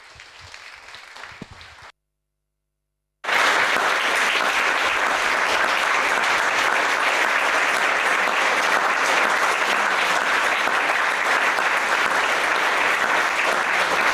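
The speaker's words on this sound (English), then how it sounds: "Please give applause to our artist" An audience applauds contemporary dance artists after a freedom-themed performance. A short quieter stretch and a moment of silence give way to loud, sustained, even clapping from a crowd that holds steady to the end.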